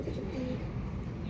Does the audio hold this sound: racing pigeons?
yes